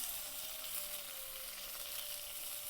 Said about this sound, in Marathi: कांदा आणि लसूण चांगलं परतून घेऊ